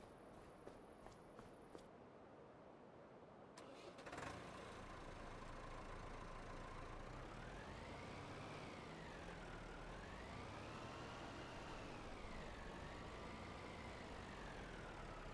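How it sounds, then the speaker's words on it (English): Small farm tractor engine starting up and then running steadily, a few clicks and a catch before a constant low drone settles in, with a slowly wavering whine over the idle. "Grab our little messy tractor."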